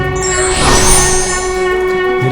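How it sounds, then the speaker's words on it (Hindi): A conch shell blown in a devotional drama setting, a sustained bright droning tone with stable harmonics swelling slightly in the middle, loud and continuous, no talk. "ये तो आपके ही शंख की ध्वनि है स्वामी"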